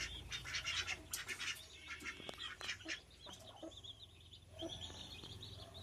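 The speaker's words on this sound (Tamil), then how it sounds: "ஸோ வாத்துகள்" Ducks kept as pets quack and chatter faintly in a cluster of calls, with some fowl clucking mixed in, all at a distance.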